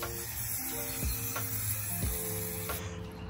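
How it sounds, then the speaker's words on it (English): A spray paint can hisses steadily with a few clicks and knocks, then the spraying stops just before the end. "go over there before you get spray painted"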